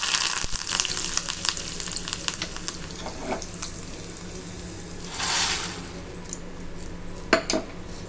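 Curry leaves and mustard seeds sizzle in hot oil, tempering for a vendakkai (okra) sambar, a steady loud fry with clinks of a metal spoon and pan throughout.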